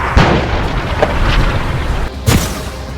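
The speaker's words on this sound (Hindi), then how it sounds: "एयर स्ट्राइक, टैंक से बमबारी," Explosions from air strikes and tank bombardment during the Israel–Hamas conflict, heard as a loud, continuous rumble with several sharp booming bursts, one near the start and a heavier one toward the end.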